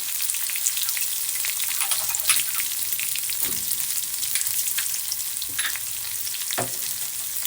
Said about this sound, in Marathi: आता अद्रक लसूणला थोडंसं फ्राय होऊ द्या